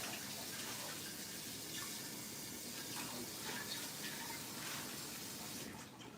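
Hot water running steadily from a tap, a continuous broadband splashing rush at moderate level that eases slightly at the end.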